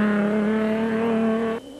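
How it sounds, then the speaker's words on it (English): A Toyota rally car leaves the start line on a 50 km prologue outside Gaborone, a loud, high engine whine holding steady for over a second before cutting off abruptly. "it was Toyota's De Bruyn who sprinted away from the line at Race HQ at Game City outside Gaborone"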